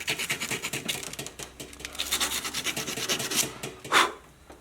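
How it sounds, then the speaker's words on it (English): Someone hand-sanding a wooden dowel at the tip of a shaft with 180 grit sandpaper, making quick, steady rasping strokes that are close and fairly quiet, with one harder scrape near the end. "even if we just take a little bit of 180 grit sandpaper, and we can just come through, just clean that up like that."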